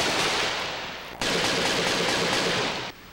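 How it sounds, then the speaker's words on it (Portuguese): Rapid, dense bursts of gunfire from a hilltop during a clash with drug traffickers in Brazil crackle continuously, with a brief break midway and a drop in intensity at the end. "Tiros foram disparados do alto do morro."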